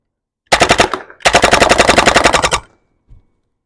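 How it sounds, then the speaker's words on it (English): A TC68 tactical carbine paintball gun fires full auto in two loud, rapid bursts, a short one and then a longer one, with a brief gap between them and a single faint pop afterward. "I'm on semi. Gonna switch to full auto."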